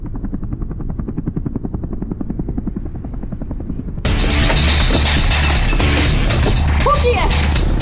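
Rapid rhythmic rotor chopping, fairly close, then a sudden switch to a loud, dense roar of engine and wind noise with a faint voice.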